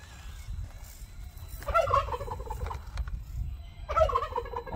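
Geese honk and gobble out in the background, two distinct bursts of raspy calls a couple of seconds apart over low rumbling ambient noise outdoors.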